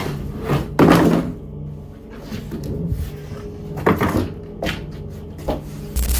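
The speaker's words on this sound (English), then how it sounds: "That door fell down again." A door falling down in an abandoned building makes a heavy wooden thud, followed by several scattered knocks and clunks of varying loudness.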